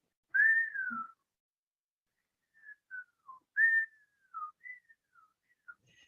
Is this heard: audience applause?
no